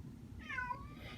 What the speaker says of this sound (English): You'll have to excuse my cat.